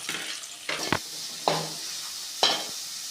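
Chopped onion fries with ginger and garlic in a pan, a soft sizzle broken by a few sharp spoon scrapes and stirring clatters.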